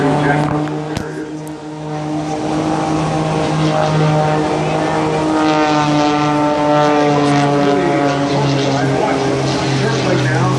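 An aerobatic propeller airplane performs at an air show, its engine a loud, steady harmonic drone that holds near and shifts pitch slightly as it maneuvers, with an announcer's voice over it.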